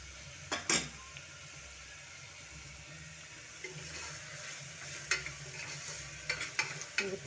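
Tomato and onion fry with a pinch of salt in a pan, a soft low sizzle under occasional sharp clinks and scrapes of a spoon stirring against the metal.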